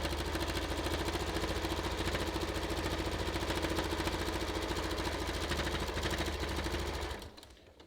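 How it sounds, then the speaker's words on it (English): A sewing machine stitches fabric for a red heart banner, a steady, fast mechanical whir running continuously close by before winding down and stopping at the end. "I'm just stitching like within the seam allowance here."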